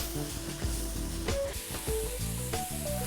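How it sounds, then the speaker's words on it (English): Spices sizzling and frying in a pan for a Pekan beef curry, a continuous close crackle with light stirring noises throughout. "we're going to continue to cook and simmer this for 1 or 2 minutes until the spices all get toasted nicely"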